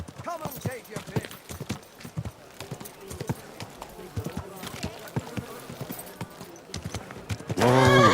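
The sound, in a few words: horse hooves and neigh in video game Kingdom Come Deliverance II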